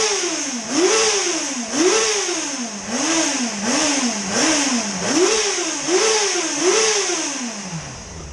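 A Yamaha FZ6 motorcycle engine, freshly tuned, revved in a quick series of about eight even throttle blips, each rising and falling, close and loud with no talking.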